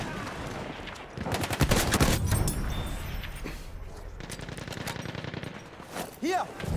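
Battlefield 1 gunfire on the Nivelle Nights map: bursts of rapid machine-gun fire and single shots, loud and close, with a voice talking over part of the battle.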